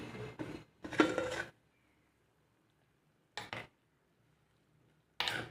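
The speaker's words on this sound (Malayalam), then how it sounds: "നന്നായിട്ടൊന്ന് ഇളക്കി കൊടുക്കാം." Lid lifted and a spoon stirring prawn roast (chemmeen ularthiyathu) in a pan: three short bursts of metal clinking and scraping, separated by quiet pauses, close and fairly soft.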